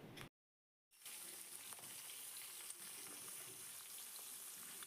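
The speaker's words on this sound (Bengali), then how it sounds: "মাছগুলোকে দিয়ে কিন্তু আমি একদম কম আঁচে ভেজে নেব" Pieces of katla fish frying slowly in oil over low heat give a steady, close sizzle, with a brief silent gap near the start before the frying resumes continuously.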